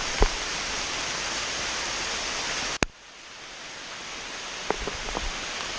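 Heavy rain pours steadily as a broad hiss during a hike at Pictured Rocks National Lakeshore, loud and continuous, then abruptly softer after a sharp thump partway through, with a few faint knocks near the end.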